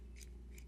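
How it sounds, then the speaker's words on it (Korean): A push button switch on an electrical control panel gives two quick, faint mechanical clicks, about a third of a second apart, heard close and alone over a low steady hum. "이런 푸시 버튼 같은 경우는 보면은 이것도 이렇게 누르면은"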